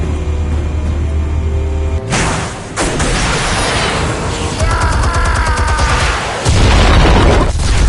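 Explosives detonate in the Batman Telltale Series game, with loud booming blasts after a steady hum, a second burst of crackling bangs and a final heavy boom near the end.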